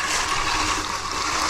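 An Ausom DT2 Pro electric scooter ploughs through a stream of water, a loud continuous rushing splash close up for a moment, with no talk.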